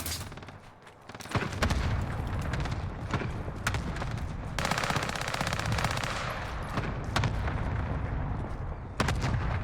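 Game gunfire in an online shooter runs as dense, continuous machine-gun bursts with booming artillery-like blasts. The firing is loud, close and rapid, with a short quieter lead-in before it starts.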